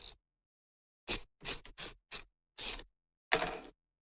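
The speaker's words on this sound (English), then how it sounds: "Let's get some tape onto this." Adhesive tape is pulled from a roll and pressed onto a handmade card in quick, close rasping strips, six or seven short bursts separated by silence, the last one longer and rougher.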